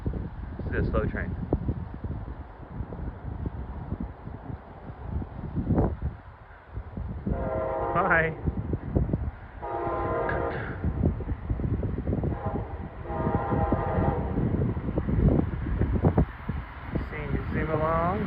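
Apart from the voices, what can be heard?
slow train passing with horn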